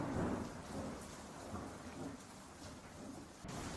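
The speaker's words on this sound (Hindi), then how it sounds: "बारिश पूरे वेग से बरस पड़ी।" Heavy thunderstorm with a rumble of thunder and steady pouring rain drumming on surfaces, dense and continuous throughout with no voices.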